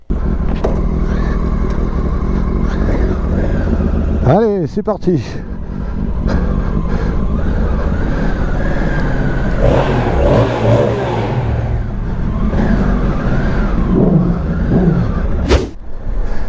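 A 2022 Honda Africa Twin 1100 motorcycle rides off road, its engine revving and accelerating steadily throughout, with a rider talking over it close to the microphone.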